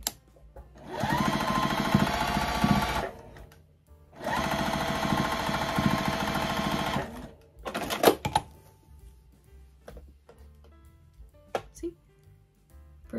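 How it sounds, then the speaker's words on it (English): Home sewing machine stitching straight quilting lines across a small quilted mug rug, two steady whirring runs of a few seconds each separated by a pause, followed by clicks and handling noises. "So now I'm gonna take this to my sewing machine and stitch straight lines across all of those creases that I made."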